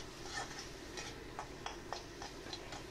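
Chilli, turmeric, grated ginger and cumin spices fry and are stirred in a pan for a Bengali fish curry, with a steady sizzle under light regular scraping taps of a spatula, close and continuous, no voices.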